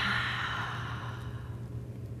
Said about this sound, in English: A small thing you could do would be deep breathing.